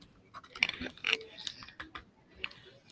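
Computer keyboard keys tapped in short irregular bursts while typing sample text, close and fairly quiet, with no talking.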